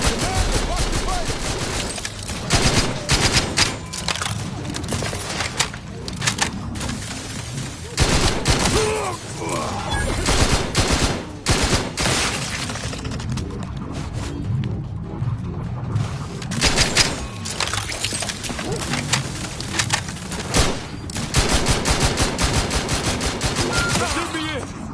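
Gunfire in the video game The Outer Worlds 2 rattles in dense, rapid bursts and fusillades, loud and sustained throughout, with brief lulls and voices shouting amid the shooting.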